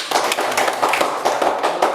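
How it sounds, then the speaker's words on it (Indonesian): A classroom of schoolchildren clapping together in quick, brisk rhythm, close and loud, sustained without pause. "Kasih tepuk tangan dulu anak-anak."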